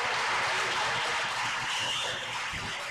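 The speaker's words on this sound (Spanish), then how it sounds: "Un fuerte aplauso para ellos" Audience applause at a school TED-style education talk, with steady, dense clapping from many hands, fairly faint and distant, continuing without pause and with no voices over it.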